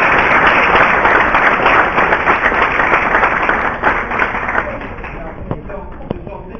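Audience at a protest event for Palestine applauds loudly as a professor is welcomed to the panel, with dense, close clapping that thins toward the end, alongside crowd noise and some talk.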